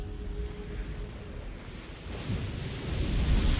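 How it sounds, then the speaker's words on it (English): Steady rushing water roars continuously at a waterfall in The Legend of Zelda: Tears of the Kingdom, the broadband wash swelling a little louder toward the end with no talk over it. "now we can go up the waterfall"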